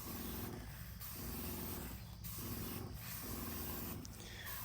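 A STIHL KW-KM power sweeper runs below full power with a steady broadband rushing spray, pulsing in short regular surges about once a second, close and continuous.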